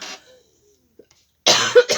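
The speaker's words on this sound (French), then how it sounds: "Je tousse" A woman coughs in a quick cluster of two or three harsh bursts near the end, after a brief murmur and a long stretch of near silence, close and fairly loud.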